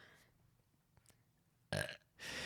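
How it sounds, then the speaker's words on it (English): Burps from a person drinking beer during a podcast interview, two short loud belches close to the microphone, one abrupt and one slightly longer, after near silence. "I'm going to expect a few burps from you throughout the interview."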